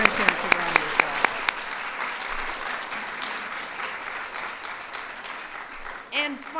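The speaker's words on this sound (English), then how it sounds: "So let's give our parents, grandparents a round of applause." An audience at the White House Kids' State Dinner applauds parents and grandparents, opening with a few sharp separate claps before dense, sustained clapping that continues evenly and ends with a brief voice.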